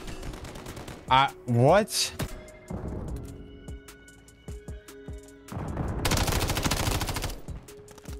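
Bursts of DG 56 rifle fire in Call of Duty MW3 multiplayer crack out in several sharp groups, ending in a loud sustained volley, with a few short spoken words and game sounds between shots.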